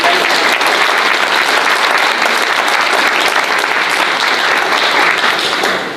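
A meeting audience at the Bella Vista annual meeting applauds election winners, with dense, loud, steady clapping that continues unbroken for several seconds before starting to fade at the end.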